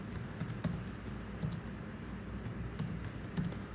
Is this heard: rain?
no